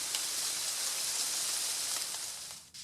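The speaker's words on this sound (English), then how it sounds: "A summer storm brings a downpour." Steady heavy summer storm rain pours down, a dense continuous hiss of drops with no voices, fading slightly at the very end.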